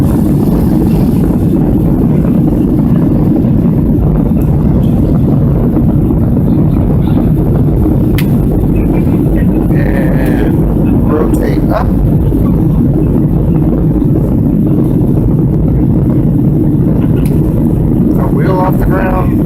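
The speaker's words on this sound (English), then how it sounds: "and back wheels up off the ground. We are airborne." A small airplane takes off with its engine roaring loudly and steadily close by, a continuous rumble lasting throughout while a voice talks over it.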